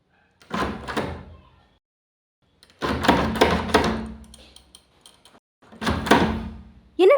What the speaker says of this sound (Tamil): கதவு திறக்க மாட்டேங்குது